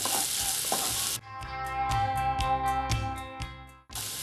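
Brown chickpea masala roast (kadala) being stirred in a pan, a loud sizzle that stops abruptly as the stove is switched off, then rhythmic spoon scrapes against the pan before the sizzle briefly returns, close with no speech.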